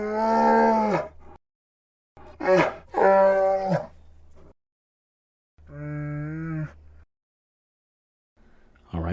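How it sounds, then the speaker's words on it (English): Raw animal vocalizations forming the base layer of a Chewbacca voice design: deep, tonal moo-like bellows in three or four separate calls with pauses between, loud and close, no speech. "So we're going to start things off with this layer of bare vocalizations."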